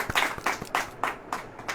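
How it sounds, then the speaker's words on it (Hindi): A church congregation claps during a Bible sermon, about eight sharp, steady claps in an even rhythm, moderately close and with no talk over them. "ताली वाली बजाइए जरा"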